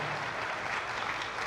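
A church congregation claps in a thick, continuous burst, many hands blending into an even roar for a second and a half.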